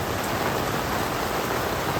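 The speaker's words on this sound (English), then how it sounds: "it's raining really hard" Heavy rain pours steadily and loudly across an outdoor craft fair in Litchfield, Minnesota, a dense, unbroken hiss with no voices or gaps.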